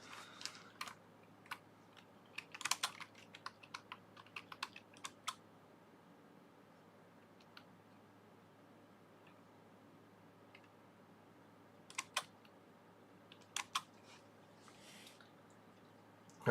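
Typing on a computer keyboard, with sparse bursts of key clicks: a quick cluster early on, then a long quiet stretch and a few more isolated taps near the end, close and quiet.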